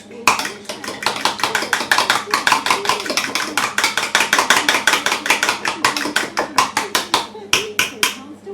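A whisk beats rapidly against a bowl, a dense run of quick metallic clicks and taps at a steady, brisk rhythm, close and fairly loud, while making Pommes Dauphine.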